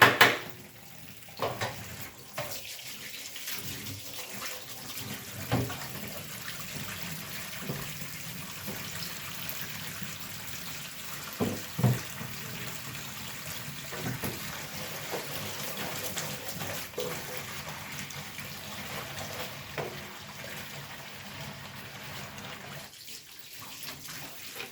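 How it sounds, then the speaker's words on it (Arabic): Tap water runs steadily while dishes are rinsed in a kitchen sink, with occasional clinks of pots and cutlery under the flow; no one speaks. "اغسل بس ده اشطف دي عشان ما بحبش مواعين ورايا"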